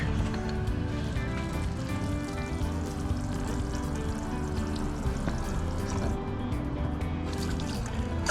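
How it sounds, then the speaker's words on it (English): Outdoor shower taps on a travel trailer run steadily, pushing pink antifreeze through the plumbing during winterizing, a continuous hissing splash of liquid that stays close and even throughout. "here at the outdoor shower, let's turn on these taps and see if we can't get some pink"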